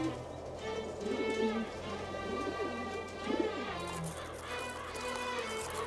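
Pigeons or doves coo in the arid mountains around Mecca, their soft, repeated calls rising and falling over a steady background hum, close and clear without any talking.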